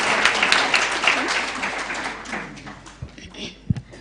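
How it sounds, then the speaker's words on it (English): An audience at a moot court competition award ceremony claps, a dense burst of applause that thins out and fades over a few seconds, leaving scattered taps and thuds. "But please, let's clap for them, even in absentia."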